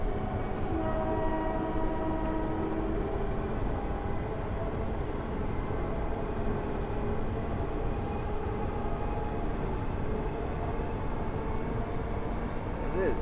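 A MEMU electric multiple unit runs steadily in the Train Simulator Railworks game on a bumpy Secunderabad–Warangal route, with a continuous loud rumble of wheels and motor, a sustained horn-like tone early on, and faint talk over it.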